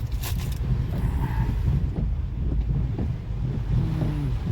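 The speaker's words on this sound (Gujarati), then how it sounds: "બોડું પવન બહુ છે" Strong wind during heavy rain at an outdoor fair buffets the microphone in a continuous low, rumbling roar with uneven gusts and no talking.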